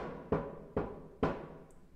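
Tambour drum muffled while resting flat on a hard surface, struck three times at an even pace, each a dull, short thud with quick decay, close and alone.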